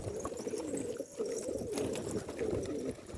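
Young Istanbul pigeons and their chicks in a loft, with soft continuous cooing and rustling close by, steady throughout with a brief dip near the middle.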